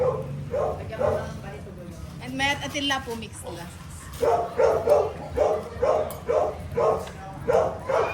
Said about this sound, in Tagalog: Ingay ng mga aso yung akin sa ano eh.